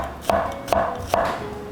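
A knife slices zucchini into thin julienne strips about 3 mm thick, with three crisp, close cuts evenly spaced roughly a beat apart and quiet between them.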